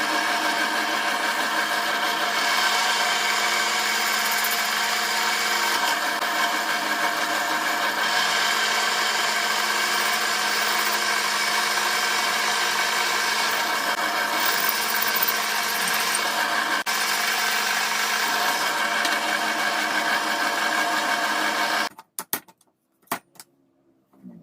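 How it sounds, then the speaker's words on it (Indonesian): A power drill whines steadily and loudly for a long stretch, grinding against a metal meat-knife blade, then stops abruptly with a few clanks at the end. "Yuk, tanpa berlama-lama kita bor saja."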